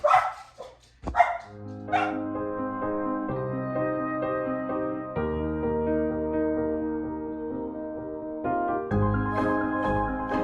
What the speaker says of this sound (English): Ooh, dogs are barking